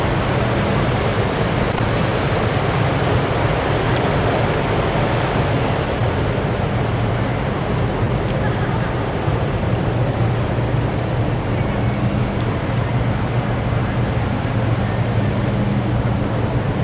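An Insta360 X5 camera dunked underwater gives a steady, loud, wide rush of churning water and muffled bubbling that fills the whole stretch without a break, with no voices.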